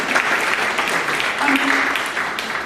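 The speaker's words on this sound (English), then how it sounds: "you can clap for them" Audience applause for a two-piano duo after a Bach concerto performance, a dense steady wash of clapping filling the room throughout, with a faint voice briefly underneath.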